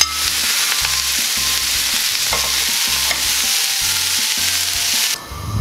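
Chopped round onion and bell peppers stir-fry in a hot pan, giving a loud continuous sizzle with a regular rhythm of stirring scrapes and shuffles, close up and with no talking.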